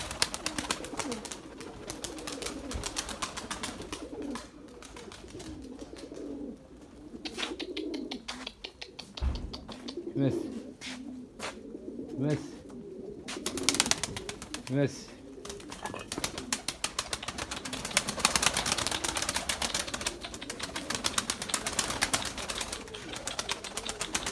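Young pigeons coo softly and repeatedly in a loft, the low burbling calls recurring at close range among rustles and wing flutters, while a person speaks over them.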